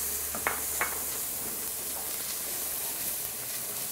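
Celery goes into a pan of onions sweating for a sweet potato shepherd's pie, giving a soft steady sizzle with a few light stirring clicks near the start.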